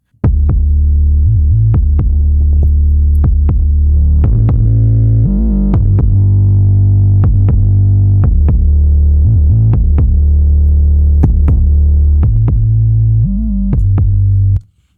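A deep, gritty distorted 808 bass pattern thumping in a rhythmic groove, loud and heavy, with short gliding notes between sustained low tones.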